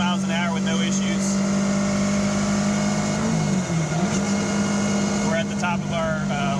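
A 1986 Pulse Litestar three-wheeled vehicle cruises steadily at about 40 mph in its top gear, its engine holding a strong, continuous drone with one brief dip in pitch, while someone talks over it.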